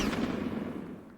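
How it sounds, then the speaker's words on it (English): Gunshots bursting through a house, a loud, dense volley of blasts that fades slowly over about a second with no voices. "Gunshots exploded through the house."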